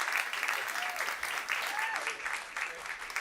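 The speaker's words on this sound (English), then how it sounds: "Bigger round of applause, please." An audience at a climate week panel event applauds, a dense, sustained clapping that fills the room close by, with faint voices underneath.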